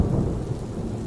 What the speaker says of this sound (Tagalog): napakaingay ng malakas na ulan at hangin